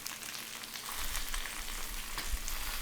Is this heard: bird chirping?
no